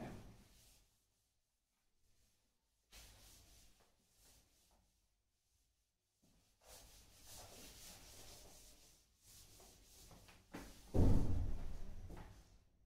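A board is rubbed clean in several separate bursts of dry scrubbing, close and fairly quiet, broken by pauses of silence, with a louder thump-like rub near the end.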